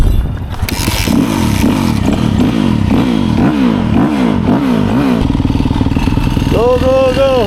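A kids' dirt bike engine revs in repeated rising and falling bursts, loud and close, then holds a steady idle with people talking nearby.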